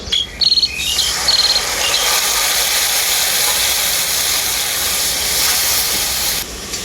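A loud, steady hiss of spice paste frying in a pan with ginger and garlic while cooking chicken with green jackfruit, after a few brief clanks at the start, close and continuous.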